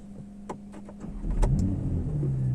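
A Porsche Panamera 4 10 Year Edition engine starting with the ignition: a short starter whir, then the engine catching and settling into a steady low idle, heard close up.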